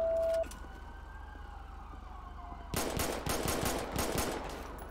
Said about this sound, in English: Shots fired, dispatch.